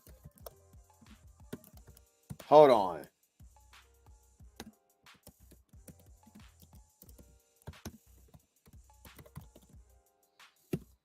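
Forceful typing on a computer keyboard close to the mic, sparse sharp clicks in irregular bursts through the clip, interrupted near the start by a brief spoken remark.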